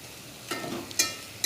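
Bay leaves dropped into hot oil for Hyderabadi chicken biryani set off a soft steady sizzle, with a few sharp crackles and stirring clinks close by.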